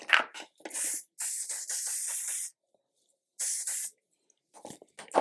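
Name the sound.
L'Oreal hair spray being sprayed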